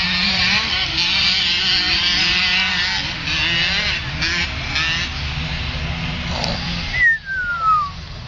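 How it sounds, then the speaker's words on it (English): A small pitbike-style scooter engine runs steadily nearby at a buzzing, near-constant pitch, then cuts off near the end as a brief falling whine trails away, with only a few faint voices. "That sounds like a scooter"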